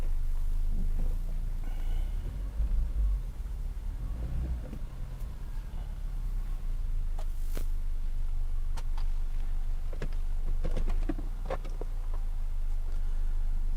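A Volkswagen Passat engine idles with a misfire, making a steady, close low rumble with occasional uneven knocks and clicks.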